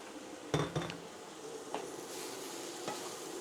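Shrimp paste (bagoong alamang) going into a hot pan with cooked eggplant, giving a steady low sizzle broken by a few sharp spoon-and-pan clinks and scraping stirs, close and fairly quiet, with no talking.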